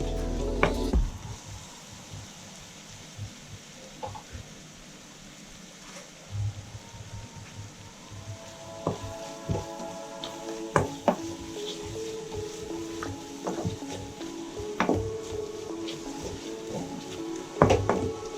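Green chilli paste frying in oil in a kadai for road-side salna, giving a low steady sizzle with scattered utensil clicks and scrapes that grow busier and louder toward the end, with no talking.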